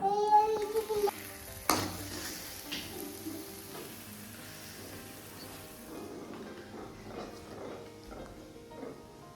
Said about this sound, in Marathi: मटर टाकते त्यामध्ये आता सध्या उकळायला.